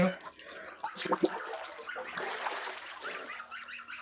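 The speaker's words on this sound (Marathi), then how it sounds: "बाग कशी भारी पोहत आहेत" Ducks quack and honk nearby over splashing water, with voices talking in the background.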